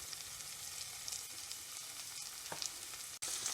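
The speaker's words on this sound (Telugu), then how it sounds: "దీంట్లో మనం కొంచెం కరివేపాకు, గ్రీన్ చిల్లీ, అలాగే ఆనియన్స్ వేసి ఫ్రై చేసుకుందాము" Curry leaves, green chilli and onions frying in a pan, a soft, steady sizzle with a few light stirring scrapes and one sharp knock near the end, fairly quiet and close, with no speech.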